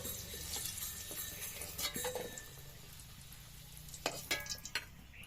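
Potatoes frying in hot oil in a pan for a chicken curry, with a steady low sizzle and scattered metallic clinks and scrapes of a utensil stirring and lifting them out, no talking.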